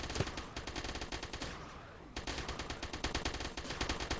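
Space-game turrets in Project Astra Dominium fire rapid automatic bursts, a dense loud rattle that breaks off briefly partway through and then resumes at the same fast pace, with no talking over it.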